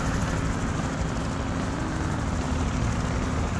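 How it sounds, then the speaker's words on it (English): Steady helicopter rotor and engine drone from the video game Just Cause, a continuous low rumble heard alone for a few seconds. "That helicopter noise is getting on my nerves."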